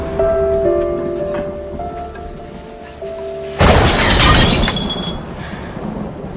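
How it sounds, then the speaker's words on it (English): Amid rain, a loud sudden crash like thunder or breaking dishes bursts in after a few seconds of quieter tonal sound, then slowly decays. "The thunder startled me."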